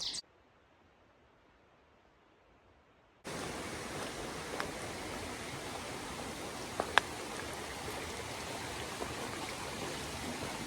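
Overflowing stream water on the Appalachian Trail, a steady broadband rush that switches on abruptly after a few seconds of near silence and holds constant, with a couple of small splashes or clicks in the flow.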